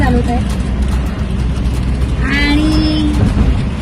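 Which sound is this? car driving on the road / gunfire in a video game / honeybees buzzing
car driving on the road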